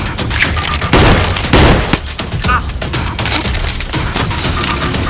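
Loud bursts of gunfire crack in quick succession, with heavy booms and splintering noise, dense and close throughout.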